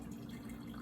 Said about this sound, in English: I'll give you a little bit of hot water with a piece of ice